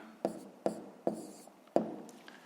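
Pen strokes writing numbers by hand into a table, four short scratchy bursts spaced roughly evenly, close and fairly quiet, with no talk.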